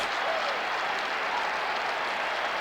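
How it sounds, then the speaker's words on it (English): Sustained applause from the crowd at the Metrodome after the ceremonial first pitch before Game 1 of the 1991 World Series, Braves at Twins, a dense, even wash of clapping throughout. "he was roundly applauded by the players when he tossed out that first pitch"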